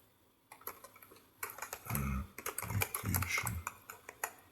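Quick bursts of clicking keystrokes on a computer keyboard, uneven and close, with short pauses between clusters and a few heavier thumps of the keys.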